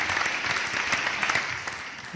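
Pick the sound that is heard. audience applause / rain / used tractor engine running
audience applause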